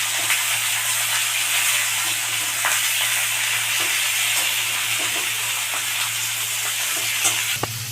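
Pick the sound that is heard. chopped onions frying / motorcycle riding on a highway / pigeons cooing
chopped onions frying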